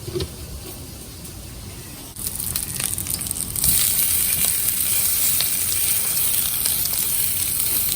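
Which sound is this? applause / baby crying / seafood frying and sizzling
seafood frying and sizzling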